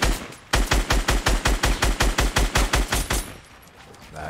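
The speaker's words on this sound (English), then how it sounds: "Look, they're here, look, he's shooting at you." Rapid automatic gunfire from a shooter video game, a loud steady burst of about twenty evenly spaced shots lasting nearly three seconds, with no talk over it.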